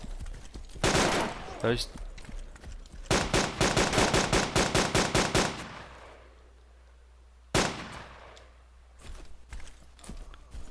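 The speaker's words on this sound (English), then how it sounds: "Must be like a buttload of zombies they're shooting at" In the video game BreakingPoint, bursts of gunfire crackle in rapid, loud volleys, then fall quiet before a single sharp shot and scattered later pops, with a voice speaking briefly.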